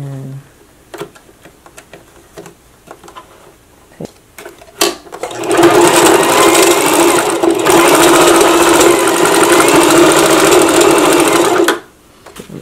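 A sewing machine stitches a skirt hem in a loud, steady run lasting several seconds, preceded by soft handling clicks and taps and ending abruptly.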